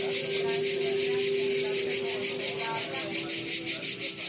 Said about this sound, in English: So also these cicadas that you already heard through the open entrances of the pavilion now are much louder.